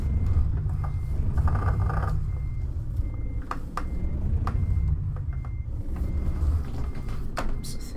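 Steady, repeated reversing beeps sound from a truck in Euro Truck Simulator 2, a Renault Range T, over the low rumble of its engine, with a few clicks and knocks scattered through.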